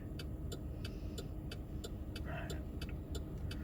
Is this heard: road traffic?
yes